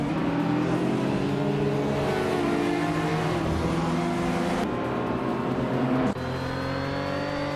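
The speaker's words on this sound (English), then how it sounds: "Emphatic is driving an Alfa Romeo GT-V6 from 1985" The engine of a 1985 Alfa Romeo GT-V6 race car in a racing video game: a loud, steady, droning roar that stays close, with abrupt shifts in pitch near 4.7 s and 6.1 s as gears change.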